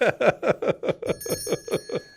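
A bell rings in a rapid run of about ten evenly spaced strikes, each with a bright metallic ring that hangs in the air, loud and close with no talking over it.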